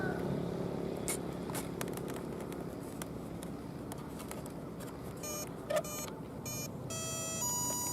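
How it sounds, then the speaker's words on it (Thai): Electronic speed controller beeping at startup as a brushless motor on an RC F4U Corsair warplane model arms after the battery is plugged in; a few short tonal beeps in the last seconds over steady background noise. "เป็นเสียงมอเตอร์บัสเลดนะที่ว่าเชื่อมต่อกับ ชุดสปีดนะที่พร้อมทำงานแล้ว"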